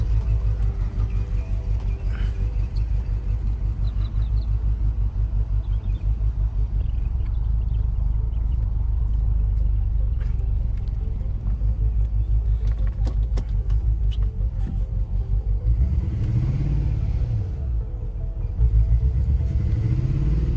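A BMW E36 M3 car engine rumbles steadily at close range, a low throbbing idle with occasional clatter, and the pitch rises and swells near the end.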